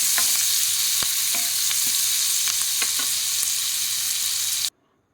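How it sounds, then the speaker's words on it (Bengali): Chopped onion and green chili fry in a pan with a loud, steady hiss. Sharp spatula taps and scrapes click through it at irregular intervals, and the sound cuts off abruptly near the end. "পেঁয়াজটাকে বেশি লাল লাল করে ভাজবো না, একটু নরম হয়ে গেলেই রান্নাটা করে নেব।"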